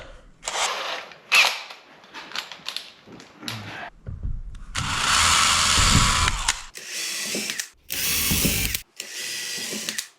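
Short mechanical clicks and rattles, then a few bursts of close power-drill whirring separated by brief pauses, a 1/8-inch bit drilling screw holes in an Old Town Sportsman 120 kayak.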